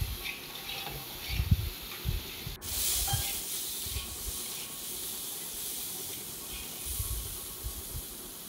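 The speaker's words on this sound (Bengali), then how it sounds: "সবজিটা একটু ভালো করে যেন ভাজা ভাজা হয়।" Vegetables coated with turmeric frying in a pan for a sour fish curry with mango, giving a steady, close hiss that starts with a sharp burst partway through and continues alone, with faint low knocks underneath.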